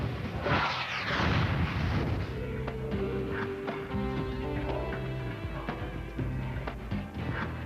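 A deep, sustained explosive roar of an asteroid impact, with rumbling bursts and crackling debris, loud and continuous throughout.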